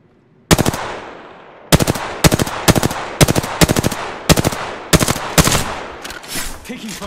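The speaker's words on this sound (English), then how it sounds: "Taking fire." Automatic weapon fire in a shooter video game: several loud, sharp bursts of rapid shots, each burst a quick rattling cluster separated by short pauses, close and dominant.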